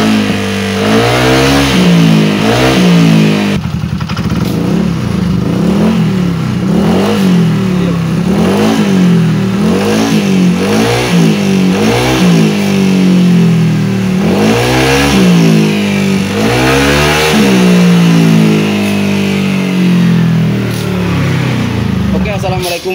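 A car engine with a leaking cylinder head that makes radiator coolant spurt is revved repeatedly, with loud, close throttle blips rising and falling in a steady rhythm under a voice.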